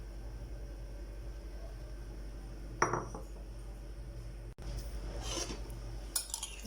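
A spoon stirs yogurt into chopped vegetables in a bowl for raita, giving faint clinks and scrapes against steady background hum, with a sharper clink near the middle and soft rubbing stirs afterward.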